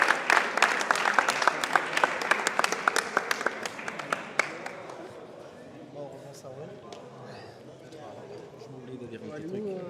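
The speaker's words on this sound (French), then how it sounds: "un tonnerre d'applaudissements, s'il vous plaît, pour la RP Motorsport" Applause for the RP Motorsport team at a Gran Turismo Sport awards ceremony after a 24-hour Spa race, dense clapping for about five seconds and then fading into a murmur of voices and chatter.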